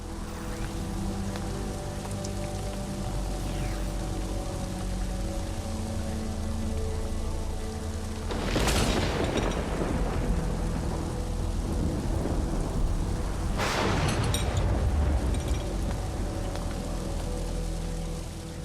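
Heavy summer thunderstorm sound effect with steady, dense rainfall throughout and two loud, close thunder cracks that rumble away, one at mid-clip and another shortly after, with no talking.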